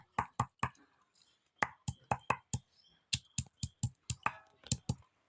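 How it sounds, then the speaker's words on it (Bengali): Onion stalks pounded on a stone grinding slab in a village kitchen: a run of sharp, close, irregular thuds and knocks, several in quick clusters with brief pauses, no talking. "এইভাবে আমি সমস্ত পেঁয়াজ কালিগুলো শিলনোড়ায় আমি ছেঁচে নেবো"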